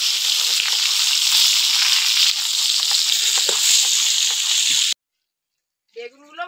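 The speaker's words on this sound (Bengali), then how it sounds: "হলুদ, আর চিনি দিয়ে বেগুনটাকে আমি ভেজে নেব।" Eggplant frying in hot oil with turmeric and sugar, a loud steady sizzle for about five seconds that cuts off abruptly, followed by a brief voice.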